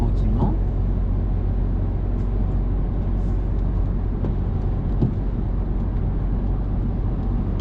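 A car accelerating on a road during a driving lesson, giving a steady, loud engine and road-noise drone that holds throughout from inside the cabin, with a faint voice now and then.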